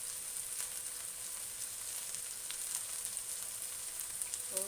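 Spices for masala bhindi fry in oil with a soft, even sizzle and light crackle, faint and steady from start to finish, with no speech over it.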